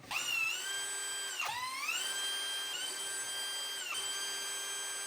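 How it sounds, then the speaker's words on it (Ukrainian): A power tool whines steadily while unscrewing bolts on a sewage drainage pump, its pitch dipping and rising again several times as the load changes, close and alone. "Відкрутили 4 болти і знімаємо."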